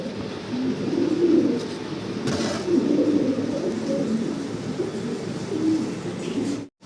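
Fancy pigeons, including Pomeranian pouters, coo repeatedly in soft, throaty rolling calls that layer over each other, close and continuous, with no talk.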